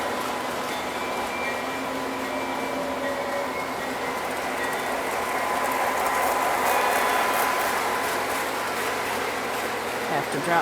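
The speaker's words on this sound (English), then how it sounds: "The freight train is making a stop here." A Lionel model freight train slows for a stop at a model station in a snowy village scene, with steady motor whir and ratcheting, clicking gear noise under a faint tone, swelling slightly before settling.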